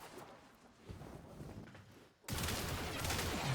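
Athodai Prime pistol fired in the video game Warframe: a softer stretch of shots, then a loud, sustained burst of rapid gunfire that fills the rest of the moment.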